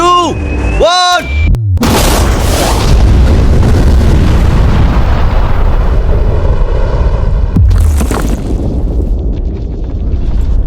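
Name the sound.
huge explosion blowing up a safe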